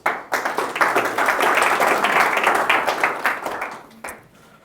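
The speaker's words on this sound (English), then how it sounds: "Big round of applause for Mark, please." A workshop audience at a 2017 sport performance innovation forum breaks into loud, dense applause for a speaker, sustained for about four seconds before thinning out and fading.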